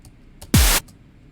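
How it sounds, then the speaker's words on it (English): A synthesized white noise transient from an electronic music production session: one loud, short burst of hiss about a quarter second long, with a deep tone sweeping downward inside it, standing alone between quieter moments. "I would go to a white noise."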